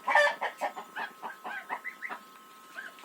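Chickens cluck in a series of short, close calls, steady at first and then thinning out, with no talking.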